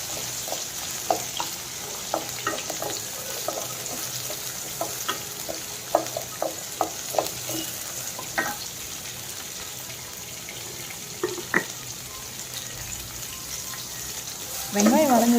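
Onions, garlic and curry leaves fry in a pan, a soft steady sizzle with occasional stirring clicks and clatter, while a voice talks quietly at times.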